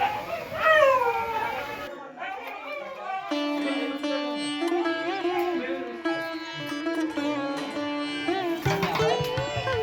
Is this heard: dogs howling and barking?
yes